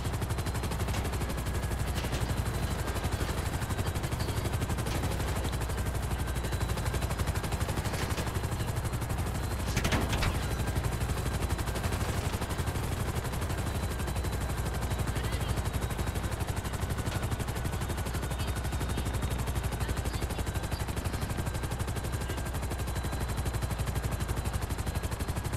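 Police gunfire in Grand Theft Auto V: a dense, continuous run of automatic shots and rapid bursts that fill the whole stretch at steady loudness, with a helicopter-like drone underneath and no talking.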